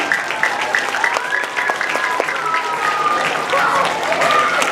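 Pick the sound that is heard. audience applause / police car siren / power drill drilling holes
audience applause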